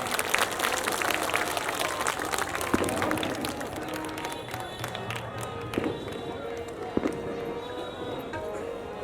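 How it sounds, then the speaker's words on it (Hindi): Audience applause at a Ramleela stage performance, a steady wash of clapping and crowd noise running throughout, with a voice calling out over it and a few sharper bangs near the end. "जोरदार तालियां, जोरदार तालियां।"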